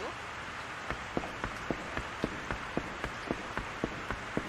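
Steady rain from the video game Rune Factory Frontier fills the background as a constant hiss, with regular soft ticking footstep-like clicks at an even pace throughout.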